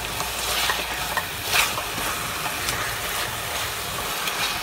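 Steady crackling sizzle of chicken frying in a pan for stew, with soft scraping of a spoon stirring through it, close and continuous.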